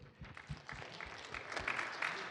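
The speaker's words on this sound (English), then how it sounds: "Let's give them a round of applause for today." Brief applause from an audience at a 1 Million Cups Kansas City meeting welcoming first-time visitors; scattered clapping that builds and thickens, fairly faint and close.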